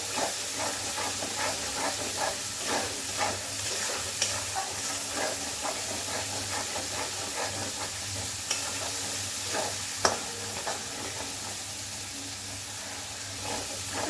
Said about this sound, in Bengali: সবগুলো মশলা একসাথে ভালো করে কষিয়ে নেব।